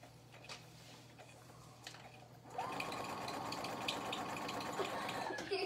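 A sewing machine stitches a pillow case, starting after a couple of quiet seconds with brief faint sounds and then running steadily at close range in a fast, continuous mechanical whir until the end.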